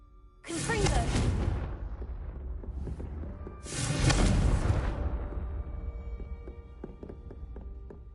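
The Confringo fire spell in Hogwarts Legacy bursts twice, each a loud roaring blast with a long whooshing tail, followed by quieter ringing game tones.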